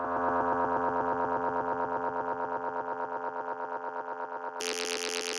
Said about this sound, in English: some cool delays to add a little bit of space in the background.